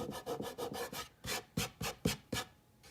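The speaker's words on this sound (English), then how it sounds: "But I'm just rubbing my finger." A fingertip rubs quickly back and forth over a painted surface, making close, soft scuffing strokes in a fast repeated rhythm that slows slightly toward the end.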